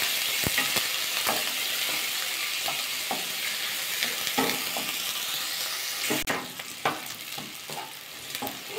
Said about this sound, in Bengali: পেঁয়াজটা 2-1 সেকেন্ড ভাজা করে নিয়েছি, বেশি কিন্তু পেঁয়াজটা ভাজা করতে হবে না।